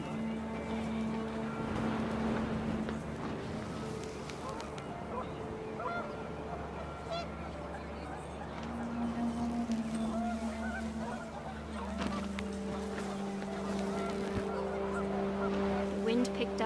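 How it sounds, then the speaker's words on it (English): Panicked geese honk in a windy outdoor scene from the video game What Remains of Edith Finch, scattered honks over a steady low drone and soft ambience. "The wind picked up, and panicked geese appeared and quickly went."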